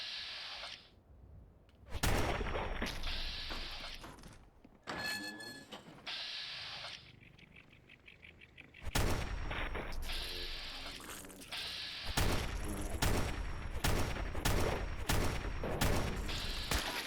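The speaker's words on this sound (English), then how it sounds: "Let's try out this combat rifle" Combat rifle gunfire in Fallout 4 VR, several loud bursts of rapid shots separated by quieter gaps with mechanical clicking and ratcheting handling sounds.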